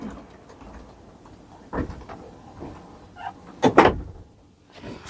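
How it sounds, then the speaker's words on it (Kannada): A capsule hotel room door is locked with a couple of soft mechanical clunks and clicks over faint room noise, the louder latch sound near the end. "ಸೊ ಇವಾಗ ಈ ಡೋರು ಲಾಕ್ ಆಗಿದೆ."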